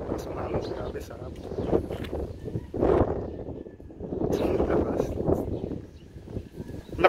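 Strong wind buffets the microphone during a warm morning walk outdoors, a steady low rumble swelling into gusts throughout, with people talking over it.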